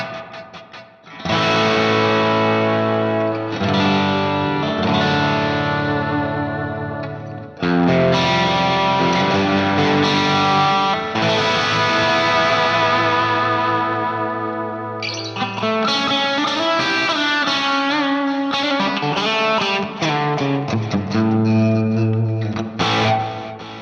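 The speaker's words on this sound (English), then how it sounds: "Beautiful reverb sound." An electric guitar played through a Fractal FM3, FM9 or Axe-Fx with a heavy reverb setting rings out alone, sustained chords and melodic notes washing into long, lush tails across several phrases.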